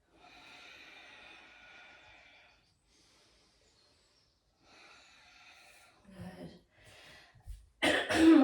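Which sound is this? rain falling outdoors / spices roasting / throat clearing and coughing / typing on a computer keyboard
throat clearing and coughing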